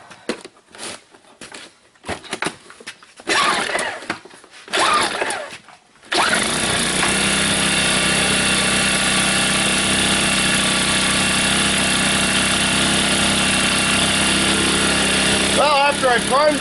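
A new portable generator fires up after priming and settles into a loud, steady running drone that lasts roughly ten seconds. The start is preceded by bursts of pulling and mechanical clatter, with brief voices near the end.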